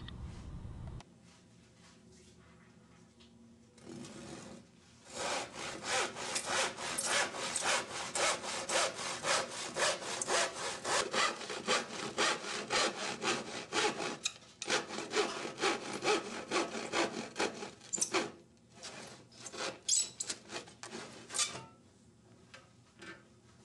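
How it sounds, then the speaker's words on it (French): A hand saw rasps steadily through a clamped wooden board, cutting a slot, in fast back-and-forth strokes, loud and close, with a few short pauses. "Maintenir la planche à l'aide d'une serre et scier la fente jusqu'au repère."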